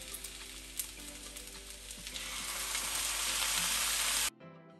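Kimchi and soy sauce stir-fry in a pan for kimchi fried rice, a dense sizzling hiss that swells louder over a few seconds with light stirring clicks, then cuts off abruptly.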